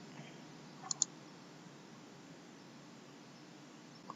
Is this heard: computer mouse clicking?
yes